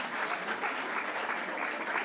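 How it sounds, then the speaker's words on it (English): Applause from a conference audience in a hall, steady and dense clapping filling the whole moment at moderate distance, with no speech over it. "Let us give them a round of applause."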